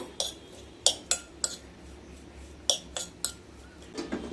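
Spoon clinking against a dish while lemon coriander Maggi masala is mixed, a series of sharp, close metallic taps at an irregular pace with quiet gaps between them.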